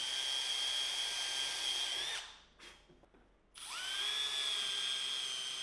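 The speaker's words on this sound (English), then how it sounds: "and then I drilled and screwed those to the fence." A power drill whirs loudly, driving screws through maple handles into a wooden fence, with a brief pause and a couple of short bursts in the middle before the steady high drilling resumes.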